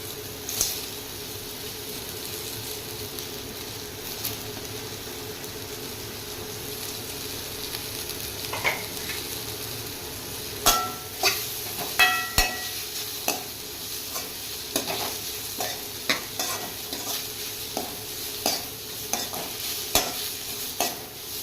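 Sliced onions fry in butter with a constant close sizzle, and in the second half a spoon stirs them in a regular series of knocks and scrapes against the pan.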